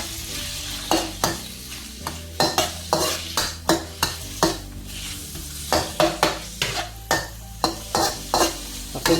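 Garlic sizzles in a wok while being stirred, sharp scraping and clanking strokes repeating in a quick, uneven rhythm over a steady frying hiss, close and clear with no talk.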